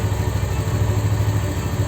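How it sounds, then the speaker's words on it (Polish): A Barton Classic motorcycle engine idles steadily while warming up before an oil change, a loud, close, continuous rumbling putter with no breaks. "Rozgrzewamy troszkę silnik."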